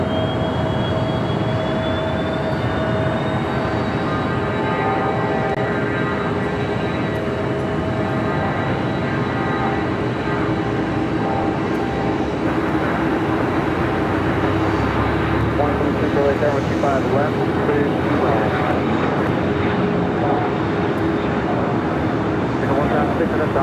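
An Advanced Air aircraft rolls down runway 25 left at Los Angeles International Airport for takeoff, a sustained engine drone with a rising whine and steady tonal hum, while a voice talks over it.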